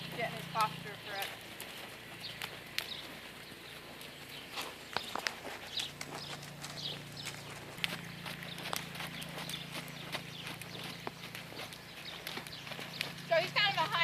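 A horse's hooves thud and clip-clop at a steady walk on soft ground in an arena, with occasional snorts and distant birds, under a person talking.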